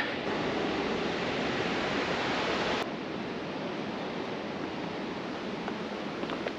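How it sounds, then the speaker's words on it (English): Waterfall throwing cold mist on a hiking trail near Telluride, Colorado, heard as a loud, steady broadband roar up close that drops slightly in level partway through and carries on without a break. "that's an example of a waterfall type we have not seen in a while. One that throws mist on you like that."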